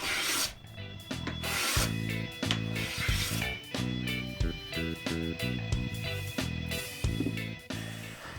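A number 4 hand plane smooths a bandsawn wood surface in a series of close, rhythmic rasping strokes, each a short scraping swish, repeated steadily without speech.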